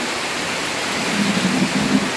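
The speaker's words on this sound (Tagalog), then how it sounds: "Grabing ulan mga ka-tubers." Steady broadband hiss of heavy rain pouring down, dense and continuous, with a low rumbling undertone and no voices.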